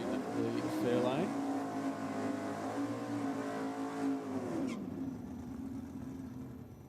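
A Valiant drag car at a no-prep drag racing event in Australia, a deep harmonic engine note that swells and shifts pitch, then drops away to a lower idle rumble. It is moderately loud and carries under a commentator's voice.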